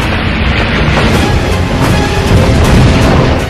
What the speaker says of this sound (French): Le Yamato fait cracher ses canons anti-aériens.